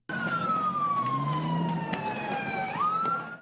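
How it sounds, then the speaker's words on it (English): A loud emergency siren wails nearby after deadly blasts, its tone sliding slowly downward and then sweeping back up, over steady traffic rumble. "the sound of emergency sirens filling the air in the immediate aftermath of the blasts"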